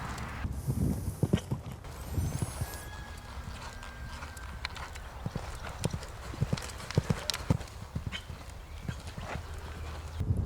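A sale horse jumps a course with fences and a water jump, hooves thudding in irregular clip-clop beats at moderate distance, with scattered clunks and faint background noise throughout.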